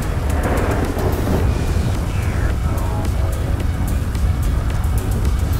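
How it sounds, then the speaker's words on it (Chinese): Heavy thunderstorm with rain in the video game GTA 5, a loud continuous roar of rain and rumbling thunder with engine-like hum underneath, steady throughout. "哦，这个雷雨好大"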